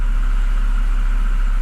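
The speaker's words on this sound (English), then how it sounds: "now it even gets back to idle much better than previously" A flood-damaged BMW E60 528xi engine settling back to idle: a steady, even mid-pitched hum with a strong low drone and no revving, heard close and alone.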